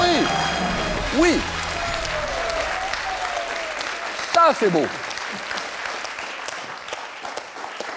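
Studio audience applause on a French TV quiz show, a steady wash of clapping filling the whole clip while someone speaks briefly over it.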